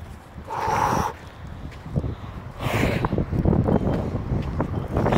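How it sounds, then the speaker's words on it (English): Strong gusting wind during a big thunderstorm in Yucca Valley, California, roaring in broad surges with two louder blasts and a steady rumbling buffet against the microphone. "Don't know, guys, if you can hear the wind."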